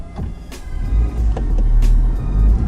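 A car, its driver wearing a helmet, drives on a public road during prep for an autocross event, giving a close, continuous low engine and road rumble that swells steadily with a few faint clicks.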